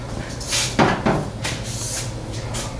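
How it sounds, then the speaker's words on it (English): A tripod knocks twice against the door of a Chevy K10 truck, two sharp close hits a moment apart over a low background hum. "Hitting the door with my tripod here."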